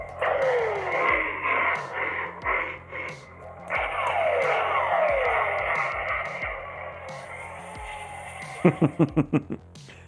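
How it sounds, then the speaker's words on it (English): Sonic charge ignition from a Theory Sabers A05 lightsaber sound font: repeated swooping electronic sweeps over a pulsing low hum, ending in a rapid stutter of loud crackling bursts, close and prominent with no voices. "It's got that whole sonic charge ignition."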